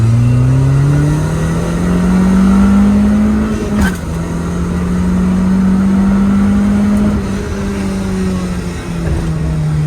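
A car engine drones steadily in second gear while the car drives over rough desert ground, revving up and easing off in long smooth swells, loud and close.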